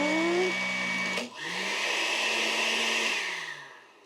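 A kitchen blender whirring at steady high speed while making chocolate-filled bread, its pitch briefly dropping as the motor bogs and cuts out, then spinning back up into a continuous loud drone that slowly winds down.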